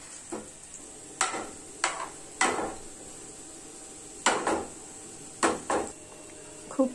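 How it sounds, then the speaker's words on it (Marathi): Moong dal halwa being stirred and roasted in ghee, with a spoon scraping and clinking against the pan in repeated close strokes over a faint sizzle, no voices. "याला खूप पेशन्स लागतात, त्याच्यामुळे अगदी हळूहळू तो आपल्याला परतायचा आहे"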